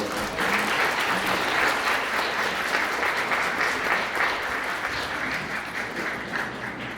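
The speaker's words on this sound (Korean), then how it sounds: "다시 한번 큰 박수로 축하해 주시기 바랍니다." Wedding guests applaud the couple at a ceremony, a sustained crowd of clapping hands filling the room for several seconds, even and moderately loud, gradually easing toward the end.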